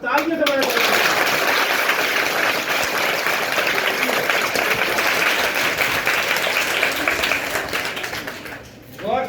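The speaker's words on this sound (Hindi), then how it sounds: "ये तालियां आपके अभिनंदन की तालियां नहीं है" Sustained loud applause from a crowd of schoolchildren at a government high school event, dense steady clapping for about eight seconds before it thins out and stops, with voices mixed in.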